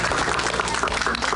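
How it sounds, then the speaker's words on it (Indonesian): A studio audience on an Indonesian religious TV game show breaks into dense, steady applause, many hands clapping at once for the full stretch with no pause. "tepuk tangan lo biar semangat"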